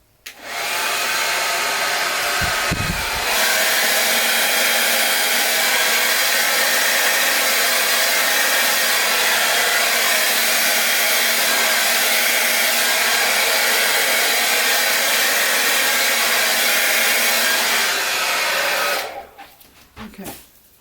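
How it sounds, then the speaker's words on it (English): A handheld blow dryer roars steadily at close range as it blows on a modified bloom, running loud and continuous for most of the stretch after a brief rustle at the start, then cutting off near the end. "Now I'm just going to grab my blow dryer and blow these just a little bit."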